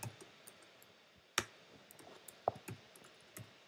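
Code typed on a computer keyboard, a few sparse, faint key clicks and taps scattered irregularly over a quiet background.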